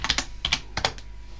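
A password is typed on a computer keyboard in a brief burst of about six quick key clicks in small clusters, close and crisp, with no voices.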